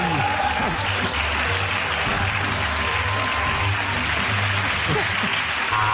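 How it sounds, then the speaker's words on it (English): Studio audience at a stand-up comedy panel show applauding, a dense sustained clapping wash with some cheering, loud and continuous, with a few faint voices underneath. "give that round of applause for James, Sarah and Andy."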